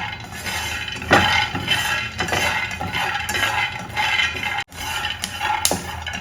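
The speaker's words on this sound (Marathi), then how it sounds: "त्याच्यातून आवाज येतो असं चटचट आणि ते फुटतात म्हणजे शेंगदाणे चांगले भाजलेले आहेत" Peanuts dry-roasting in a pan over a low flame give off scattered, close crackles and small clinking taps that come in irregular bursts at a steady low level, with no voices.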